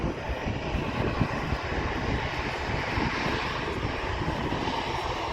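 A Jet2 Holidays airliner at Manchester Airport gives off a steady, broad engine roar that holds at an even loudness throughout, with no voices.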